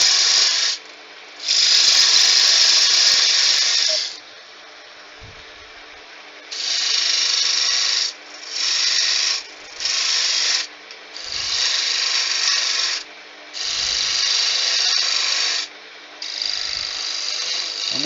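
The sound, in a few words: spindle gouge turning wood on a lathe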